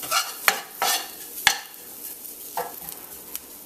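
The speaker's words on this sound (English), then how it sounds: "Give that a quick stir." Bird peppers being stirred into toasted curry in a pot for curry pigeon peas, giving a few scraping stirs with bursts of sizzling and gentle background frying.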